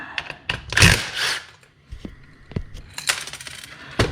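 Metal bolts, nuts and washers pulled off engine mounts, a scattered series of sharp close clinks and light metallic taps at irregular intervals, with some handling rustle between them.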